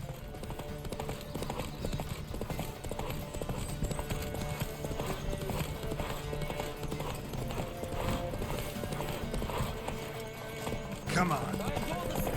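Rhythmic clip-clop of a horse galloping in The Witcher 3, steady hoofbeats continuing throughout under someone talking, with a brief neigh-like burst near the end.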